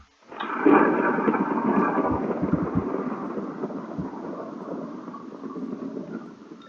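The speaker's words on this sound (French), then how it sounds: "Donc là, il pleut." Thunder and rain in the video game Minecraft: a long rolling thunder rumble swells in abruptly, then fades slowly under a steady hiss of falling rain, with no talking.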